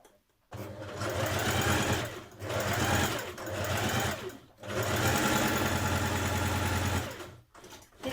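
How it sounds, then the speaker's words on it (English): A sewing machine runs ease stitching around the top of a dress sleeve, in three long steady bursts with brief pauses between, close and loud with a constant mechanical whir. "Sew a line of ease stitching around the top of each sleeve between your markings."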